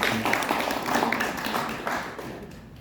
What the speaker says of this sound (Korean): 박수 환영해 주십시오